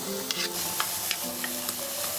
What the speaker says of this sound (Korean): 버터 10g, 채 썬 양파 볶아줍니다